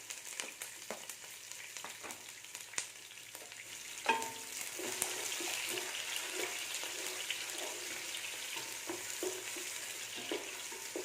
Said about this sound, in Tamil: இப்போ ஃபஸ்ட்டு வெங்காயத்தை போட்டுடலாம் வெங்காயத்தெல்லாம் மீடியம் ஃப்ளேமில் வதக்கணும்